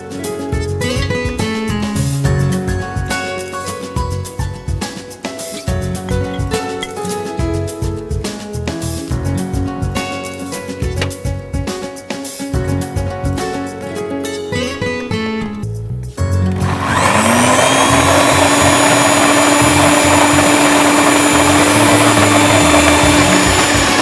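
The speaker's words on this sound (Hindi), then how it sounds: "अब हम इसमें जो सूखे मसाले हमने पीसे थे, नारियल, सफ़ेद तिल और इसमें खसखस, इसको भी इस मसाले के साथ डालकर पीस लेंगे।" A mixer-grinder blends dry-ground spices with coconut, white sesame seeds and poppy seeds. The motor's whine starts partway through, loud and steady, and runs to the end after a stretch of unrelated sound.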